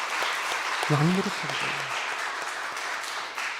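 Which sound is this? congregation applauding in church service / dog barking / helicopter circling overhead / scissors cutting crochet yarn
congregation applauding in church service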